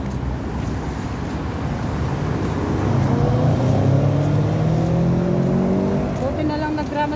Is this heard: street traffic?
yes